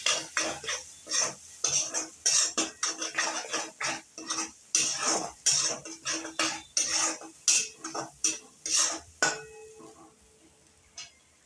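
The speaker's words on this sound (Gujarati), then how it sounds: "બધો મસાલો આપણે મિક્સ કરી લઈશું" Turmeric and coriander-cumin powder being stirred into a Kathiyawadi onion mixture in a pan, a long run of rhythmic metal spoon scrapes against the pan over a light sizzle, close and unaccompanied by talk.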